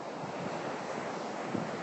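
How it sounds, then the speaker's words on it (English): Steady, roaring wind at Pacifica at sunset buffets a microphone, with a low rumble throughout and a brief harder gust near the end. "I'm trying to block the mic, it's really windy."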